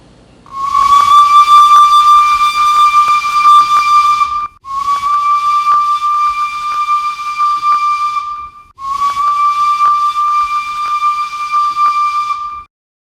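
The Fairy Queen, the oldest working steam locomotive in the world, sounds three long, loud steam whistle blasts, each steady and tonal with hissing steam underneath, separated by brief gaps.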